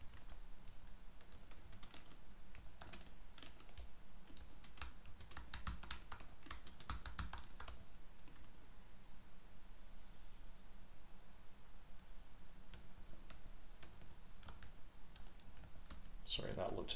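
Someone types on a computer keyboard during a programming session, with bursts of close key clicks and short pauses in between.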